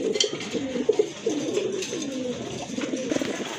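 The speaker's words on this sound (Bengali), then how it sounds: "এক জোড়া বোম্বাই কবুতর" A pair of deep red local Bombay pigeons, a female among them, coo in low rolling, throaty bursts close by, repeating steadily over a faint background hiss.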